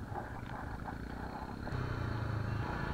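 A Royal Enfield Himalayan motorcycle skidding on a Leh Ladakh ride gives a low rumbling engine thump under steady road and wind noise, growing slightly louder and deeper partway through.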